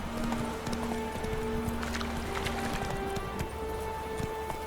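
Roach, Geralt's horse in The Witcher 3, gallops with a quick, steady clip-clop of hooves at moderate distance, over low ambient game music and a faint background rumble.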